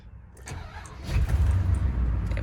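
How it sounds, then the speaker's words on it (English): A pickup truck that had been sitting with a faulty oil pressure sensor cranks and starts, a short churning start building into a low, steady idle rumble, fairly close and alone. "Started my truck."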